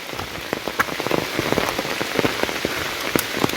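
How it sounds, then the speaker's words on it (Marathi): Heavy unseasonal rain in rural Konkan pours down hard and close, a dense hiss with sharp drops spattering on a surface, no voices. "डायरेक्ट भरला पाऊस त्या साईडने भरून आला एकदम आणि जोरात पाऊस लागायला लागला आहे"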